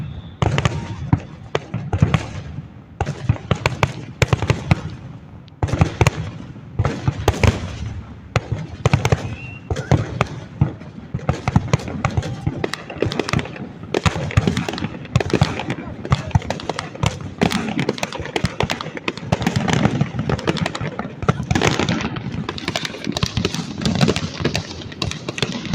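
Independence Day fireworks burst overhead in a loud, nonstop barrage of cracks, pops and crackling booms, with voices now and then among the explosions.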